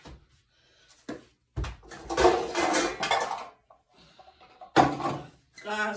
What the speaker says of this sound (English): I'm going to put these on right now in a pot that I'm going to cook these in